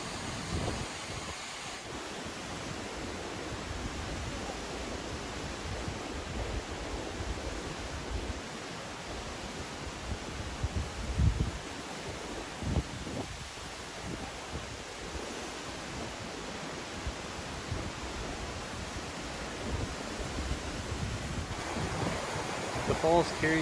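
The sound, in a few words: Cascade Falls waterfall in Colorado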